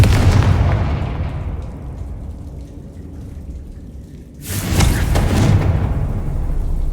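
A Confringo explosive spell goes off in the video game Hogwarts Legacy, a loud booming blast with a rumbling tail that fades, then a second heavy burst of noise near the end.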